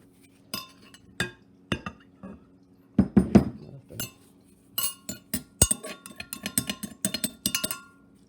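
A spoon scrapes and clinks against a dish, pushing food to one side: a run of sharp, close metal-on-ceramic taps and scrapes, sparse at first and then quicker and denser near the end.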